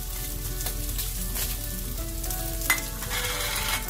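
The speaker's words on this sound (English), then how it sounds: "as the onions fry, we're going to add our whole dried chilies." Onions and whole dried red chillies frying in a pan for a Kerala chilli chicken fry, giving a loud, continuous close-up sizzle with occasional light stirring clicks and no voices.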